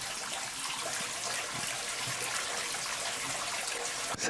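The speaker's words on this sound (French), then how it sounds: "Je crois que c'est un bain qui coule" A bath fills with running water, a soft, steady hiss and splash that stays even and fairly quiet throughout, with no talking.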